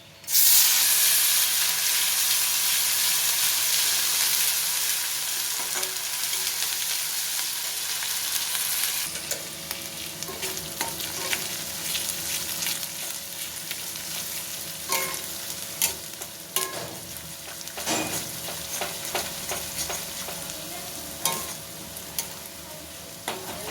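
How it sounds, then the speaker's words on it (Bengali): Onion paste hits hot oil in a pan with a loud burst of sizzling that settles into a steady fry, broken by scraping stirs and occasional pops, with no one talking. "এবার এর মধ্যে পেঁয়াজ বাটা দেব দিয়ে একটু ভেজে নেবো"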